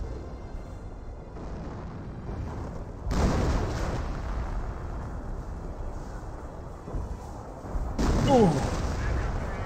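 A heavy artillery barrage in the wartime strategy game Company of Heroes. Deep explosions rumble continuously, with two louder booming impacts standing out, over a constant battlefield din and a brief voice exclamation.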